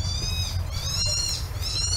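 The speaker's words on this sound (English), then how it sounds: "Do you hear him squawk?" A bird at a wildlife park squawks in high, wavering cries against a steady low rumble of background noise, repeating a few times at moderate distance.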